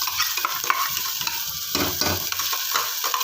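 Bombay duck (bombil) bhaji with masala sizzles and fries in a pan while being stirred, giving a close, crackling hiss broken by scraping and clinking strokes from the spoon, with no talking.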